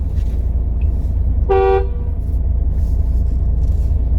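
A single short car horn honk from a Mahindra XUV 700 sounds once over a steady low engine rumble, with no voices.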